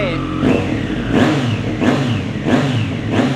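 A 2020 Triumph Street Triple 765RS motorcycle revs repeatedly, with five sharp, loud throttle blips rising and falling in a steady rhythm over a low idle, close by.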